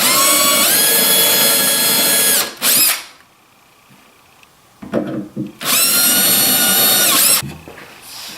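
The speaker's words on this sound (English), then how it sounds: "Just going to use my Vicks bit here." Power drill with a Vix self-centering bit boring hinge holes in a clamped kitchen hutch cabinet door, two loud close whirring bursts separated by a quiet pause.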